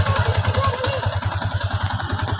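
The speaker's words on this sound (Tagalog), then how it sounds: "pakinggan nyo po yung makina kung tahimik po siya" Yamaha Sniper 150 motorcycle engine idling close by with the exhaust covered, a steady, even low throb with fast regular pulses and light mechanical clatter, no talk over it.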